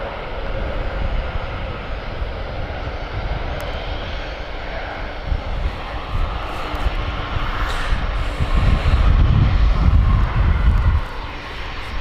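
An EasyJet airliner arrives at Gatwick Airport, its jet engine roar loud and sustained, swelling toward the end with heavy low rumble, with no voices.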